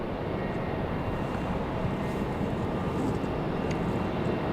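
A United airliner idles at the end of the runway at Raleigh-Durham airport, its engines a steady, broadband rumble heard from a distance and unbroken for the whole stretch.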